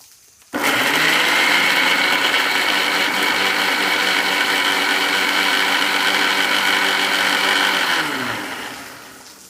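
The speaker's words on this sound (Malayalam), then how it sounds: "ഇതിനെ നമുക്ക് നന്നായി അരച്ചെടുക്കണം" A mixer grinder whirs at steady high speed, blending chopped tomato, green chili and garlic into a hot salad chutney, starting abruptly and running loud and constant before winding down near the end.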